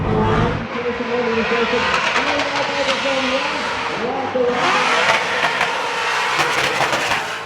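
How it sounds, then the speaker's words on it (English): A drift car at a Drift Masters event in Riga runs loud and close on seven cylinders with a rough, uneven engine note that rises and falls under overlapping talk. "that car making so much power that they can run it with 7 cylinders"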